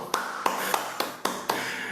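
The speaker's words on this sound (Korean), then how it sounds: "박수 한번 칩시다" About six sharp claps at a steady, slightly uneven pace during a C programming study lecture, fairly close and standing alone without talk over them.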